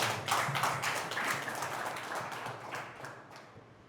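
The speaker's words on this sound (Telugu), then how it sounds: "ताली बजाते हैं।" Audience at a pastors meeting clapping their hands together in a loud, dense round of applause that swells early, then gradually thins and fades toward the end.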